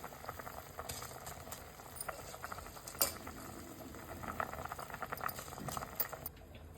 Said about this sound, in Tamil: கொதி வந்துடுச்சு